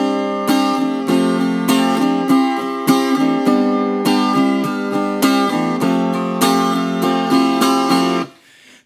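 Small Martin acoustic guitar strung for Nashville tuning plays a bright, shimmering run of picked chords, close and steady for several seconds before the final notes ring out and fade, with no speech.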